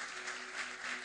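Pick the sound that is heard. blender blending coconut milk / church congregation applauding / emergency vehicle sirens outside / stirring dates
church congregation applauding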